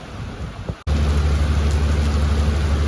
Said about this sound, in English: Clouds got darker and it started to rain